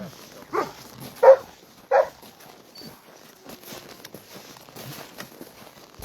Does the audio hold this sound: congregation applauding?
no